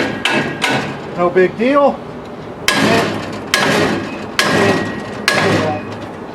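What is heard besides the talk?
axe striking a forcible entry tool to force a door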